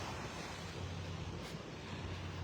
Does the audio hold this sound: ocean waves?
yes